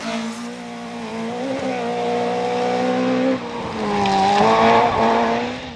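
A REIS 1400 Championship rally car at the 2014 Somerset Stages revs and drops as it accelerates and brakes nearby on a hairpin, gear changes audible, with a brief tire skid mid-way.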